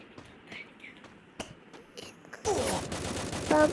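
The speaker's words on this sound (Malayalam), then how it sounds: "അയ്യോ, എവിടുന്നാ എന്നെ വെടിവെക്കുന്നത്?" Scattered sharp shots crack out against a quiet background, then a burst of heavier rapid gunfire erupts and continues loudly to the end.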